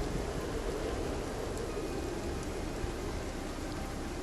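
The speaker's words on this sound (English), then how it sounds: "Sometimes I feel like I'm hearing zombies, but it's just the rumble of the thunder." A heavy rain storm in the video game Project Zomboid hisses steadily and evenly, with a low rumble of distant thunder buried in the dense downpour, quiet and unbroken.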